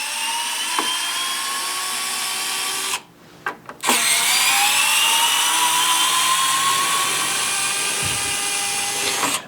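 A cordless electric screwdriver runs in a loud, steady high whine while backing screws out of an electrical receptacle, stops briefly with a few short bursts, then resumes a long continuous run.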